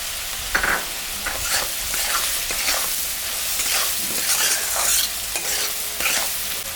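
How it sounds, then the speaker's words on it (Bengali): Potato and onion fry in hot oil with salt and turmeric added, a loud, close sizzle broken by repeated stirring scrapes of a spatula against the pan, with no talking. "আলু পেঁয়াজ ভাজা হয়ে গেছে এখন আমি স্বাদ মতন লবণ আর পরিমাণ মতন হলুদটা দিয়ে দিলাম"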